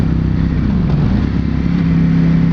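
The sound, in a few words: Ducati Panigale V4S motorcycle engine revving during hard acceleration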